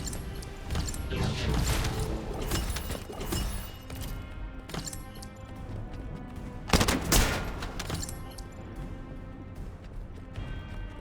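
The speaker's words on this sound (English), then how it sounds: "Fuck that guy up really quickly with this sniper rifle" Sniper rifle fire and combat in The First Descendant, with repeated sharp shots and crashes over a busy mechanical din, and one heavy blast standing out near the middle.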